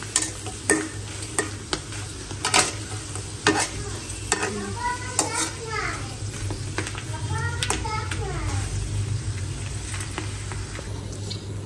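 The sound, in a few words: frying potato chips in a pan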